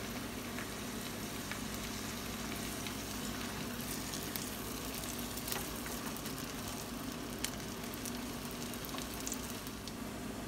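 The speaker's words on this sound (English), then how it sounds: "While the butter's melting, I'm gonna add 1/2 teaspoon of minced garlic." Minced garlic sizzling in melting butter in a pan, a steady, close, even crackling hiss that runs the whole time without talk.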